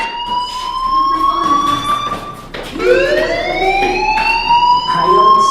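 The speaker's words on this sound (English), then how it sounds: "Hey, do you hear that fire alarm?" A loud wailing fire alarm tone in the video game Life Is Strange sweeps steadily, dips, then rises again and keeps sounding, piercing and continuous with faint background noise.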